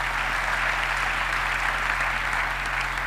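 A church congregation applauds continuously, a steady, dense wash of clapping with a low hum beneath, no voices standing out.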